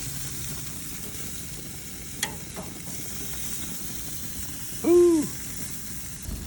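Country ribs sizzle on a grill as their grease renders, a continuous close hiss with a short excited exclamation from a voice partway through.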